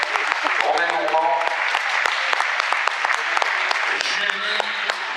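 Audience applause fills a sports merit awards ceremony in Sausset-les-Pins, a dense, steady clapping from a hall crowd lasting throughout, with a voice speaking briefly over it.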